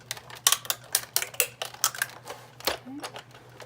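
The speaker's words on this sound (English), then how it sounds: "that cracking sound is totally normal. That's just the dye going through the paper" A Sizzix die-cutting machine cracks and crunches as a floral wreath die cuts through paper, a rapid series of sharp irregular snaps over a low steady motor hum.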